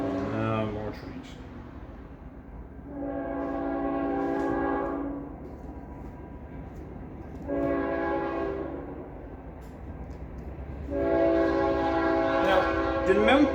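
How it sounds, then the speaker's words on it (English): A train horn sounds in three long, loud blasts separated by pauses, with a steady low rumble of rolling rail traffic underneath. "More trains."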